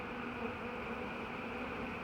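Honeybees buzzing steadily during a bee removal in hot weather, a dense continuous drone close by with no pauses.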